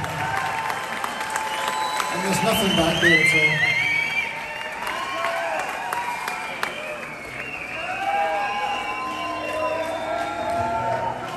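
A concert audience applauds and cheers during an encore break at a show, a steady roar of clapping and whoops that swells around the middle, with someone talking over the crowd throughout.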